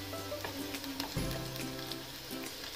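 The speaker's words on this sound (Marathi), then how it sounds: "आता जे पण आपण बटाट्याच्या फोडी कट करून आणि त्याला होल करून घेतलेल्या होत्या त्या याच्यामध्ये शिजण्यासाठी टाकणार आहोत" Potato pieces drop into a pan of frying onions for aloo palak, setting off a loud, steady sizzle with crackling spatter. It runs continuously throughout, with no voices.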